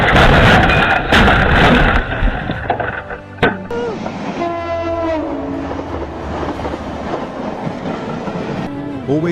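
Train passing near tracks, loud rumbling and clattering up close, then a long wailing horn blast that bends in pitch as it goes by, with rail clatter fading under it.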